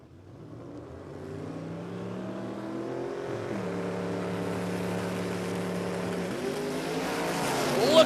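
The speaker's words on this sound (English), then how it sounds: "Look at that Hilux go." A Toyota Hilux drag racer with a 540-cubic-inch engine launching at Warwick Dragway, a distant engine roar rising and climbing through gear changes, growing louder toward the end.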